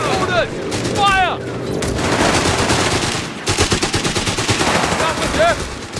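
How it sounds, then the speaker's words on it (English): Heavy machine gun in the video game Company of Heroes 3, firing sustained rapid bursts amid battle noise, with shouted voices and whistling shells over the dense, loud gunfire. "Heavy machine gun has been deployed for you."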